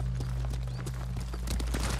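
Horse hooves clopping in a quick, steady rhythm during a ride in the video game Ghost of Tsushima, close and clear over a low rumbling ambience.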